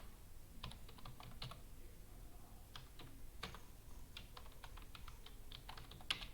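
Computer keyboard typing while writing Go code, a steady run of quick, light key clicks in irregular bursts, close and fairly quiet with no talking.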